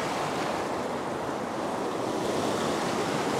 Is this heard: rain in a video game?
no